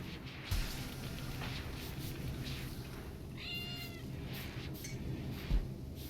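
A cat gives one short, faint meow midway through, heard over a low room background with a couple of soft thumps.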